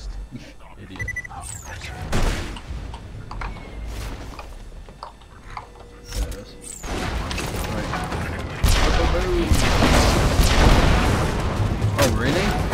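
Gunfire in the video game Borderlands 2: scattered sharp blasts early on, then a louder, denser stretch of shots and impacts toward the end, over busy game noise.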